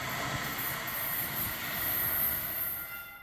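A Stadler FLIRT light rail train on Ottawa's O-Train Line 2 rolls past steadily, with a continuous close rumble of wheels on track, faint squealing and a hiss throughout, and no voices.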